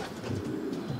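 Pigeons coo softly in a loft, low murmuring calls that blend into a faint, steady background.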